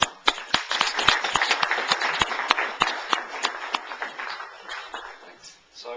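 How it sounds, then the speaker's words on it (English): A small audience at an IBC 2009 wrap-up gathering claps for David, sparse distinct hand claps with sharp individual strikes, close and uneven, tapering off near the end. "I'd just like ask everyone here to join me in a round of applause for David"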